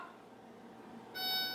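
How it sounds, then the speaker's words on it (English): An oven timer gives one clear, steady electronic beep that starts suddenly after a quiet kitchen pause and holds for about half a second. "my oven is like just about to beep"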